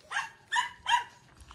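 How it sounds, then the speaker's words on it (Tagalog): A big dog barks three times in a steady rhythm, fairly close and clear, with a short faint sound at the end and no talk. "Malaking aso daw."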